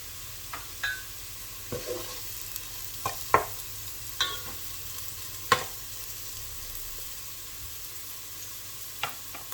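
Garlic and mushrooms cook in a pan with a soft, steady sizzle beneath occasional sharp clicks and scrapes of a utensil stirring, close by and without voices.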